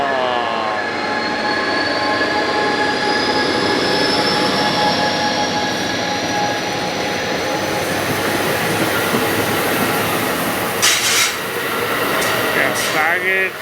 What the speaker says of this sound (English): Coast Starlight with Amtrak 301 now headed